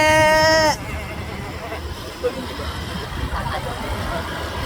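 A short, loud bleat from a goat opens, followed by road and engine noise with a voice in the background.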